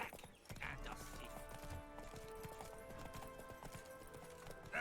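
Roach the horse's hooves clip-clopping in The Witcher 3: Blood and Wine, a steady rhythmic trot under faint background music, with occasional soft spoken voices in the game.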